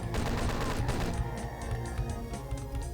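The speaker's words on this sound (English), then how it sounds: "I'm going to shoot out these hit scanners" Rapid gunfire from Doom 2 as hitscan enemies are shot down: dense, loud bursts of punchy shots and crashes, one on top of another, then a slightly sparser volley.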